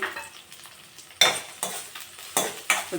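Onions dropped into hot oil in a pan with curry leaves already frying, sharp bursts of sizzling and several distinct stirring scrapes of a spoon against the pan over a soft crackle.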